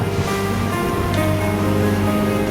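A sailboat motors across the calm Atlantic. Its engine gives a steady low drone under the wash of water along the hull through the short stretch.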